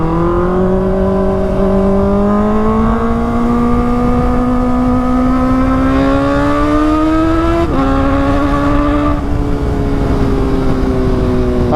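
A Kawasaki ZX-4RR motorcycle on a long ride revs loudly and steadily, its engine pitch climbing gradually, dipping sharply at a gear shift near the end, then settling, close and dominant with no talking.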